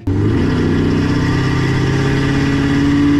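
A Fiat Multipla tuned to 1294 hp roaring loud and close, its engine quickly climbing to a hard, sustained high-revving drone for the whole moment, with no talk over it.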